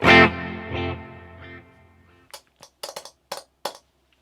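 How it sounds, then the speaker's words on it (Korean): An electric guitar note rings out through delay and reverb pedals with repeating, fading echoes and a long reverberant tail, followed by a series of short, dry plucked hits. "공간계 이펙터의 딜레이와 리버브"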